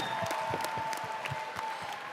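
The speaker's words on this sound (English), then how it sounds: "So can you give them a round of applause" Audience clapping after a junior debate showcase at the World Scholar's Cup: a faint, scattered round of claps from a crowd in a hall, distant and thin over a steady background hum.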